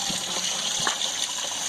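Liquid pump running while homebrew beer wort is chilled, a steady rushing gush of circulating water with a constant hiss, close and continuous, with no talk.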